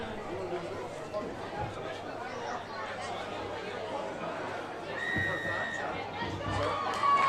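A crowd at an under 11s rugby league grand final cheers and chatters behind Woolgoolga, a continuous babble of voices and shouts with children's cries rising near the end.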